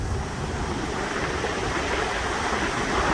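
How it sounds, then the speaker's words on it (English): A steady, broad roar of rushing water from Niagara Falls, dense and unbroken, with no voices or other distinct sounds. "You could hear these waterfalls from about 4 miles away."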